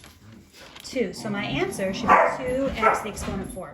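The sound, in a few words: dogs barking in the background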